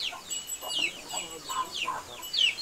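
Chickens and muscovy ducks on a rocky mountain farm give several short, moderately close clucks and squawks in an irregular rhythm over quiet outdoor background.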